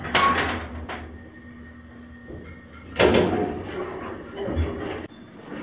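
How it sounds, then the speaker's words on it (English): Elevator doors slide open with a mechanical rumble and clatter, close by and moderately loud, after a quieter stretch of low hum. "Hurry up and open the doors."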